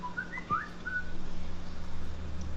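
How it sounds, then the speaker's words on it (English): Someone whistles a short, bright, wavering melody in the background of a fantasy game scene, faint and slightly distant over a low steady hum, with a single soft thump partway through. "Somebody's whistling in the background."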